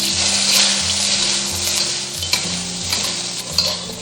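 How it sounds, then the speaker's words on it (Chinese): Fried pork pieces and vegetables are tossed in a smoking-hot wok for guobaorou, a continuous loud sizzle with the scrape and clatter of a stirring utensil and a few sharper knocks against the pan. "把肉回锅，然后加入配菜，"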